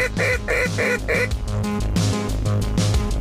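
Ducks quack loudly and close during a duck hunt, a run of repeated harsh honking calls in quick bursts, partly overlapping, with no voices.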